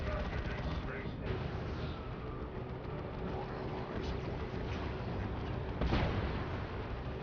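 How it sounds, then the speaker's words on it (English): Rapid heavy gunfire from a Terminator assault cannon in the real-time strategy game Dawn of War II: Retribution, a dense continuous barrage with bursts and battle noise throughout, loudest near the end. "Terminators have their assault cannon and finish off the Guardians."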